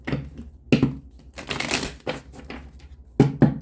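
Tarot cards are shuffled in several quick riffling bursts with sharp slaps between them, close and fairly loud.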